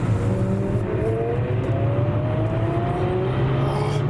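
A Ferrari 360 sports car at a car meet accelerates with a loud, steady rising engine note, a sustained revving roar climbing gradually in pitch over a constant low rumble.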